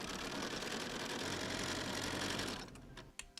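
A sewing machine runs a steady, fast, continuous chain stitch through scrap quilt fabric, close and loud, then slows and stops, leaving a few light clicks.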